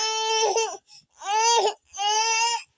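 A baby girl cries loudly and close in three drawn-out wailing bursts separated by short gasping pauses.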